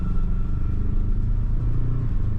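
A Ford Ranger Raptor pulls away on gravel in 4H, a steady low engine rumble with a faint crunching clatter underneath, close and constant throughout.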